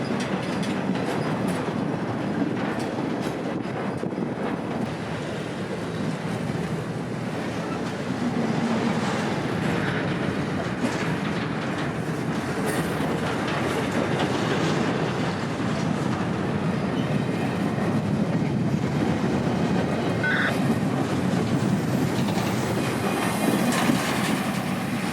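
A Tampa intermodal freight train led by two locomotives rolls past at a distance, giving a steady rumble with wheel clatter and occasional faint squeals for about twenty-five seconds.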